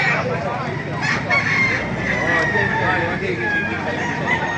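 Chickens cluck and a rooster crows amid a busy, noisy outdoor crowd at a market in Baliuag, with voices chattering throughout.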